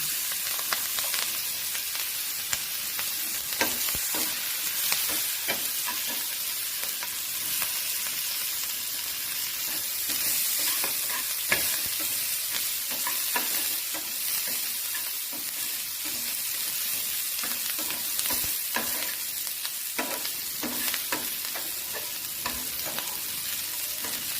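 Brinjal and okra stir-fry tempering with chillies and onion sizzles steadily in a pan, a constant bright hiss punctuated by frequent clicks and scrapes of stirring, with no voices.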